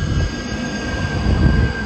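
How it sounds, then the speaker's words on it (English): A train pulls in close by with a loud, steady low rumble and a thin high-pitched whine above it, continuous and building slightly. "So here comes our train."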